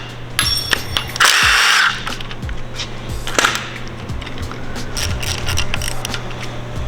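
A power tool whirs in short bursts while removing the timing tensioner from a K24 engine in a garage, with one louder burst near the start followed by lighter clicks and mechanical knocks close by.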